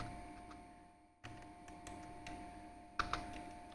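Faint, sparse keystrokes on a computer keyboard as a number is typed in, a few soft separate clicks in a quiet room.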